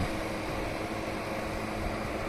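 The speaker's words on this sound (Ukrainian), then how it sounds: "Компресор, конденсатор, вентилятор, все працює дуже тихо." A used Technokholod 1200 refrigerated display cabinet hums quietly from its compressor and condenser fan, a steady broadband drone with no talking.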